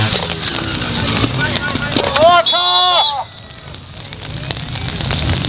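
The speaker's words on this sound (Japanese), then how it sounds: "今ね、加速の時にちょっと滑りましたね。" Trial motorcycle at an All-Japan Trial Championship section in a dam trial park, engine revving hard with a rising whine as the rear tyre briefly spins and slips under acceleration, loud and close amid wind, then dropping off to a quieter idle.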